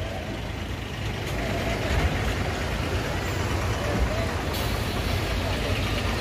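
Bus climbing the hill road to Tirumala, a steady low engine rumble with road noise and a brief hiss, heard from inside the cabin while people talk.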